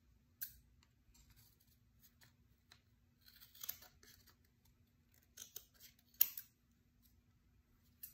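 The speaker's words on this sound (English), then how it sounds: "Now we are going to cut it off the frame." Scissors cut stitched fabric off a craft stick frame, making faint, scattered snips and small clicks at an irregular pace against a near-silent background.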